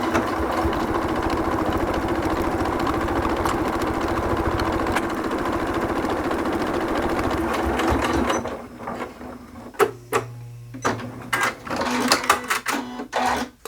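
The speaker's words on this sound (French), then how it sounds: "je repointe dans la couture existante et je repars pour la deuxième couture" A sewing machine stitches the second seam joining the lining and outer fabric of a travel pouch, whirring steadily and close for about eight seconds before breaking into short stop-start bursts.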